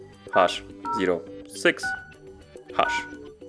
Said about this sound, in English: tap right here to bring up the dial pad and dial in code *##06#